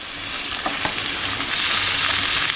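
Cabbage frying in a pan on a gas stove, a loud, dense hiss of sizzling with a few soft clicks early on that swells slightly toward the end, close up with no talking.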